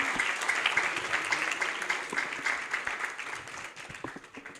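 An audience at a gathering of young lawyers applauds a political leader, a sustained round of dense clapping that fades gradually, moderately loud and without talk.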